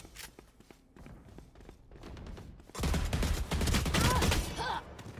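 Phantom rifle fire in a Valorant match, with scattered single shots and taps early, then a loud sustained burst of rapid gunfire filling the second half, and a voice speaking beneath it.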